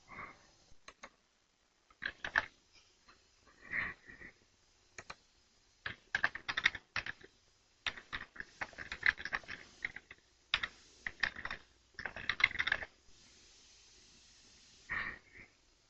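Someone typing on a computer keyboard while entering a comment into a records form, with bursts of close, crisp key clicks separated by short pauses and a brief hiss near the end.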